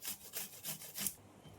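Raw green mangoes are grated by hand for chutney, a faint, close rasping scrape repeated in five quick even strokes, alone with no talk.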